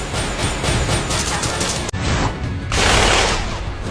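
Anime gunfire as target-seeking bullets are fired during a dungeon boss fight: a loud, dense barrage of rapid shots that breaks off for an instant, then swells again.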